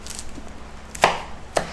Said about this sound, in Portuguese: eu vou cortar a cebola